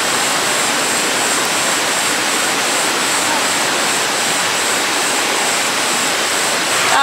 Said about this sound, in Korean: 물소리도 들리고